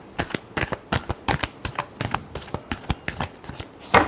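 Tarot cards are shuffled in quick, crisp riffling bursts, about a dozen rapid flicks in an uneven rhythm, close and clear with no talking.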